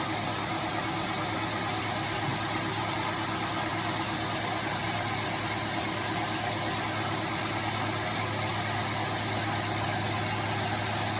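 Micro hydro generator runs with a constant, dense mechanical hum and whir, close and unchanging throughout with no voices.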